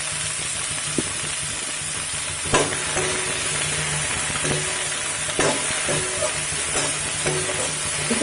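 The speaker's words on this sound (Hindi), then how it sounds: "इसे थोड़ा सा भून लेते हैं हम।" Potato, eggplant and adauri bari stir-fried in a pan give a steady, close sizzle, broken by occasional scraping stirs and clinks.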